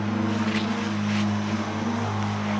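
Airplane engine droning loudly and steadily nearby with a continuous propeller-like hum and no pauses.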